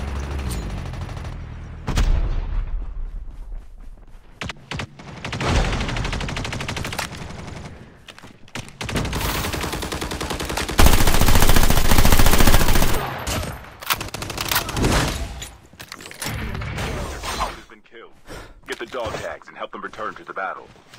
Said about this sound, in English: Someone is sniping.